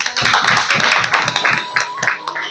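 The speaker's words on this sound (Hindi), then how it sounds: "इनके लिए एक बार तालियां हो जाएं" A gathering of people with disabilities in Sitapur claps for their teachers, a loud, close burst of hand claps with a rough, uneven rhythm sustained throughout.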